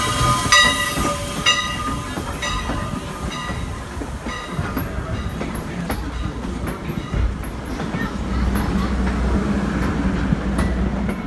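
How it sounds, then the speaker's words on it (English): A Strasburg Railroad steam locomotive and its train rolling past a parking lot side at close range, a steady loud rumble of wheels and cars with rhythmic clacking and some high squeals throughout. "Our locomotive will pass by on the parking lot side of our train"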